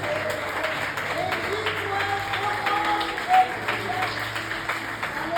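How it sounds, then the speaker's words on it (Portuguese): A church congregation claps together at a moderate level, a steady wash of hands with a few louder bursts and some voices mixed in underneath. "Aplauda o Senhor mais uma vez"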